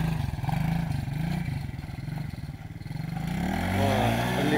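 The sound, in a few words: repaired quad bike (ATV) engine driving off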